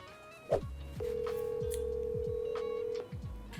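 Mobile phone placing an outgoing call: a brief tap, then a steady continuous dial tone holding for about two seconds, followed by repeated short rhythmic beeps, close and clear in an indoor room with no talking.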